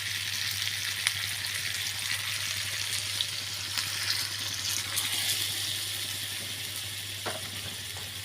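Vegetables and a Hilsa fish head frying in a pot give a steady close sizzle, with a few light clinks and a brief splash as water goes in, and no talk over it.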